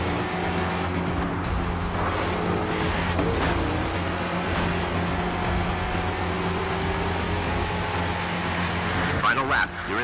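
Race cars in the driving game Grid 2, engines roaring close with tires squealing and skidding as a car spins out ahead, continuous over about ten seconds amid overlapping engine noise.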